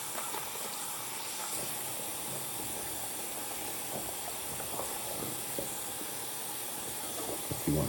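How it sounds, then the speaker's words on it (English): Water pours and hisses steadily into a basin where a GP-5 gas mask is soaking, a continuous close splashing rush with small irregular drips and knocks. "Add a little bit more water to it."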